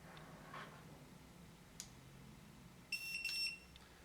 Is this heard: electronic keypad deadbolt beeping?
yes